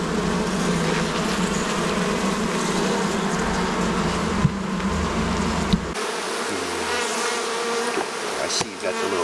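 Bees hum and buzz densely and loudly around an open top bar hive during an inspection, a steady close drone that thins slightly toward the end.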